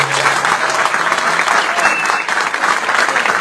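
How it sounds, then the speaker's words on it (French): Audience applause for the volunteers and exhibitors at a community gathering in Montreal, a dense, steady roar of clapping that holds loud and even for the whole stretch. "je pense qu'on devrait applaudir tous les bénévoles"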